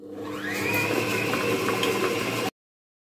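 An electric mixer whirs steadily as it beats butter, a loud, even motor drone with a faint rising pitch at the start, running close up and alone before cutting off abruptly.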